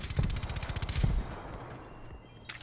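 Rapid bursts of automatic gunfire crackle in Call of Duty, dense and loud at first, then tapering into quieter scattered shots and a late short burst.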